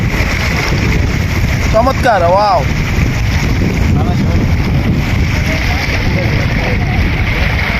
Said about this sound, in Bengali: এই ঢেউটা দেখেন, কত আওয়াজ আসতেছে